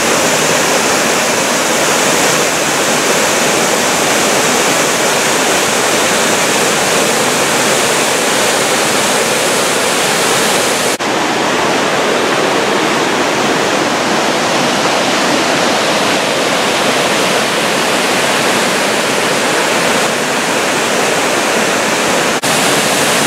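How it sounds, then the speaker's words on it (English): Ragavea Falls in the Columbia River Gorge, a loud, unbroken roar of falling water rushing steadily for over twenty seconds with no voices. "Ragavea Falls, Columbia River Gorge."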